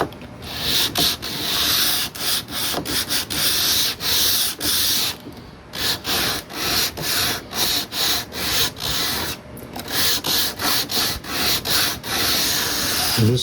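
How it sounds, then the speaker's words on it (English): Sandpaper of 120 grit on a curved block rubbing along a violin fingerboard, loud close back-and-forth rasping strokes in a steady rhythm, with a few brief pauses between runs. "I'm starting out with the 120 grit paper, and I'll just be sanding along the length of the board like this."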